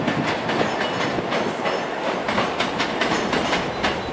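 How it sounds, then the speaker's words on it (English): ScotRail class 334 electric train running through Edinburgh Waverley station, its wheels beating a quick, regular clickety-clack over rail joints amid a loud, close rumble, with no voices. "334-019 with the 1312 Scotrail service to Helensburgh"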